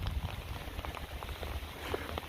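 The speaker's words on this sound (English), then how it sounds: "It is really raining." Heavy rain falling outdoors at a shooting range, a steady soft patter and hiss of drops on surfaces, faint and continuous with no voices.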